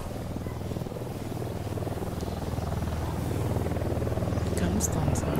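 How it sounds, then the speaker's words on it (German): A helicopter in the Ghost Recon Wildlands video game drones with a steady, rising rotor throb that grows slightly louder over several seconds, with a few faint higher blips near the end. "Irgendwo ist ein Hubschrauber."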